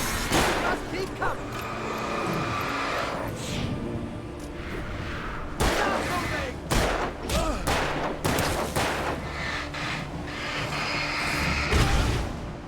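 Bursts of gunfire in Alan Wake 2, sharp repeated shots in irregular clusters, loud and close, with a voice talking over parts of it.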